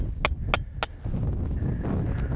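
A hammer strikes tent stakes into porous ground three times in a quick, even rhythm, each blow sharp and close, with steady wind rumbling behind the hits and continuing after them.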